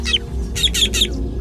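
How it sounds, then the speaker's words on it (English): A fork-tailed drongo gives an alarm call to meerkats at an eagle: a short chirp followed by three loud, harsh, evenly spaced calls close by, over a steady low background hum. "He spots an eagle on the hunt and sounds a warning."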